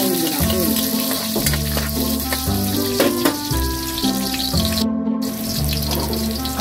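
Onions and garlic sauté in a pan as the base for a sardine and egg guisado. A loud, steady sizzle runs without a break the whole time, close up, with no talking.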